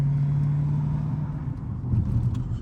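Dodge Hellcat car cruising, heard from inside as a steady low engine drone with road rumble, pitch shifting slightly as it moves, continuous and close with no talking.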